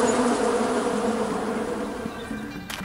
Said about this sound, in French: il y a des abeilles qui viennent de l'intérieur